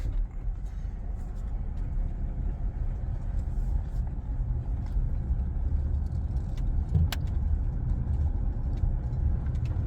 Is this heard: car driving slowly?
yes